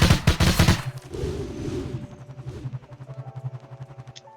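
A gun mod in Blade and Sorcery fires a quick burst of close, loud shots, which then fade into a trailing, ringing decay with a steady hum underneath.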